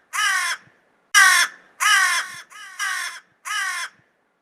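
A crow attacking a fox in an animated children's story gives six loud, harsh caws in a steady rhythm, each separated by a short silence, with no other sound.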